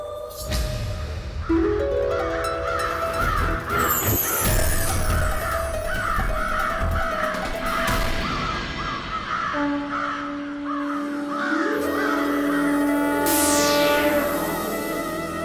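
Crows caw again and again in a steady, rhythmic run of harsh calls over a busy background, with a sharp rising sweep near the end.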